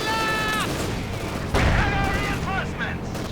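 Anti-tank grenades blast against a Panzer IV in the video game Company of Heroes 2, a single heavy thump amid a busy battlefield din of distant shots and tonal game effects.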